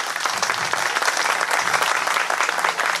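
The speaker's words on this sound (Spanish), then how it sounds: "Rita Abinader, para quien pido un fuerte aplauso." Loud, dense applause from an audience at a swearing-in ceremony in Sosúa, steady and close for about three seconds with no voices over it.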